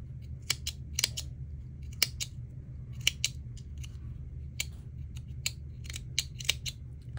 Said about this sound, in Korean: 가위가 참 잘 안 들어요.